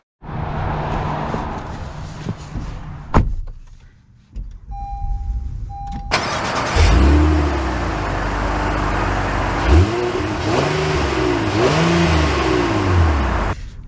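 A 2023 Honda Passport TrailSport pulls away. After a quieter stretch, a loud, steady engine and road roar takes over, and the engine note rises and falls as the SUV accelerates.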